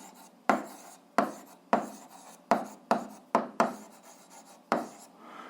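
A pen scratches out an algebra solution on paper in short, sharp strokes, about eight quick marks spread over several seconds, each one close and distinct in a quiet room.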